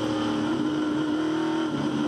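A touring car engine revs hard out of a corner during a Touring Car Masters race at Hidden Valley Raceway, a loud steady high-pitched drone held close throughout.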